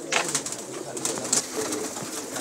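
High flyer racing pigeons coo softly in a loft, a few low throaty calls close by amid light fluttering and shuffling.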